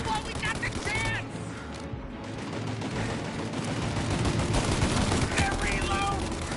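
Dense gunfire rattles through a shootout in Mafia Definitive Edition, with rapid overlapping shots that dip briefly, then build again, while voices shout over the steady din.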